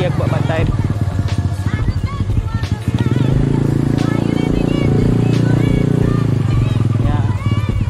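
An EX5 motorcycle engine runs steadily and fairly close during a ride, with someone talking over the continuous drone.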